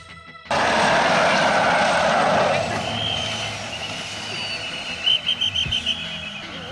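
A turboprop plane arrives at a small airport in Nepal: a loud, broad roar swells in, then eases into a steady high whine with a few short bursts near the end, while voices sound close by.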